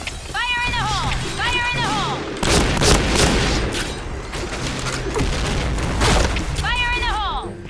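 Gunfire from a shotgun in Point Blank, an online shooter game, comes in dense, loud bursts that run through most of the stretch. Synthetic warbling game tones and lively talk sit over the shots.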